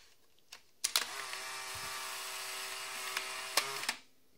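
A Polaroid 635 instant camera fires its shutter release: sharp mechanical clicks, then about three seconds of steady whirring drive, ending in another pair of clicks, heard up close with no talk.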